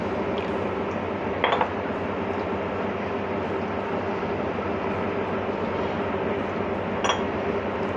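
Water pours into dough as it is mixed for an easy evening snack, giving a steady, close hissing trickle throughout with a couple of brief clinks of a utensil or bowl.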